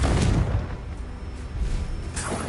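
A Confringo blasting spell explodes in the Hogwarts Legacy video game: a dense, rumbling low burst that swells near the start and again near the end, with steady noisy crackle in between and no talk.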